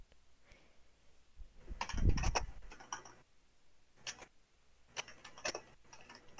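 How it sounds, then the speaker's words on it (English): Computer keyboard typing comes in short bursts of quick clicks, close and moderately loud, with gaps between bursts and no talk. "you're probably gonna hear some typing noises"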